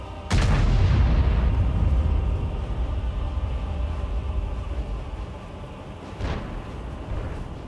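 A Soviet Obj. 705A heavy tank cannon in World of Tanks fires with a loud, close boom that rumbles and decays over several seconds, followed by a second, fainter shot near the end.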